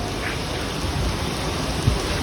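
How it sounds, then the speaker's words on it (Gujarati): Steady, dense rain pours down continuously, a broad hiss with no breaks or voices. "વરસાદ ચાલુ થઈ ગયો છે બધી બાજુથી"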